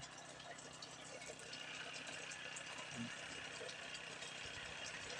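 A small lawn mower engine (grass-cutter type) drives a small water pump outdoors, producing a continuous, even mid-pitched engine drone with faint rattling vibration throughout.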